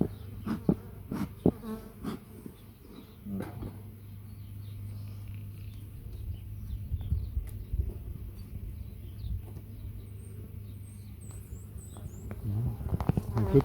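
Honey bees buzz steadily around an opened spring beehive during an inspection, a continuous close drone with brief thumps and handling noises, and occasional voices nearby.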